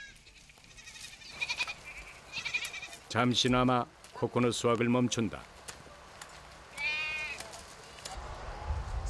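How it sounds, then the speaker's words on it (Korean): Goats bleat intermittently on a Philippine coconut farm as they rush toward falling coconuts and fronds, several distinct calls rising over background noise, with a narrator speaking over much of it. "코코넛과 함께 떨어지는 잎을 보고 달려드는 염소들."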